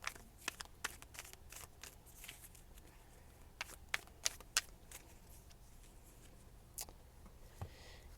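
Tarot cards shuffled and drawn, soft scattered flicks and sharp snaps of card stock over a faint steady hum, close but quiet with no talk.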